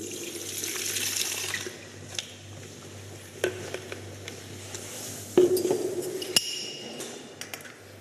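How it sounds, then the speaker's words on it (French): Water runs from a tap at a Corsican wine estate, a steady hiss with a low hum beneath, broken by several sharp clinks and knocks of glass or metal. "Robinet."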